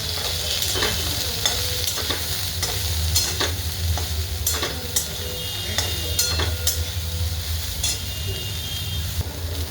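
Squeezed soybean mince roasting in a little oil in a pan for soybean keema, a steady sizzle broken by repeated scraping and stirring strokes of a spatula, close and fairly loud, with no speech.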